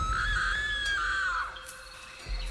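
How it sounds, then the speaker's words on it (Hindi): A woman's loud, sustained high scream, used as a horror story sound effect, rises sharply and then trails off into quiet background. "जो उसने देखा उसे देखकर वो जोर से चीख पड़ी।"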